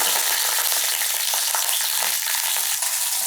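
Green chillies sizzle in half a teaspoon of oil in a hot pan while coconut chutney is being made, a dense, steady frying hiss with small crackles running throughout, close and constant.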